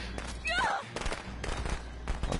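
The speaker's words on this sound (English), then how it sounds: "The firecrackers blocked the fuse." Firecrackers in the Friday the 13th video game pop off as a quick ragged series of sharp cracks, loud and close, with a short whistling squeal early on.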